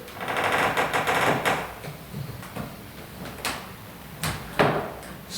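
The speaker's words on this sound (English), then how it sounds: "Squeaky floors, we used to it in Copenhagen." A wooden floor creaks and knocks irregularly as someone moves slowly through a ground-based warm-up and movement exercise. The quiet, scattered creaks come with no talk.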